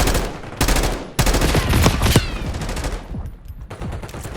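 Gunfire erupts in Call of Duty during a sniper engagement, with loud close cracks and a dense rattling burst followed by a few scattered shots that fade toward the end.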